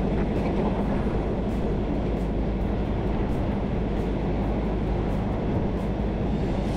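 A passenger train in Thailand running between stations, a steady loud rumble and roar of the carriage in motion with faint rhythmic rail clicks, continuous throughout and without talk.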